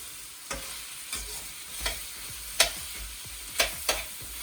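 Chopped tomatoes stirred into a lightly oiled frying curry base for a Sri Lankan chicken curry, with about six scraping strokes of a spoon over a soft steady sizzle, no talking.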